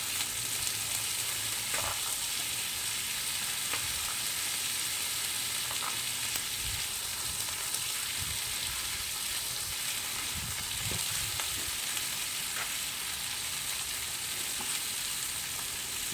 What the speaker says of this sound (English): I got my butter is boiling now. So I'm going to go ahead and add a little butter on here too.